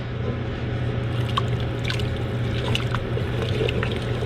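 Stock poured into a pot of Cajun gumbo, a steady liquid trickle and splash running continuously for a few seconds under a low kitchen hum, with no talking.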